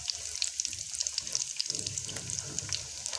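Stuffed capsicums frying in oil, heard as a close crackling sizzle with scattered popping bubbles and spits over a low bubbling bed.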